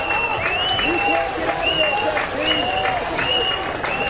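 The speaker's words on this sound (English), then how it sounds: "This big crowd have been waiting for something to cheer about the whole night." A big crowd at a college baseball game, an NCAA regional between Wright State and Vanderbilt in Nashville, cheers and applauds in a late inning, a loud sustained roar with an announcer talking over it.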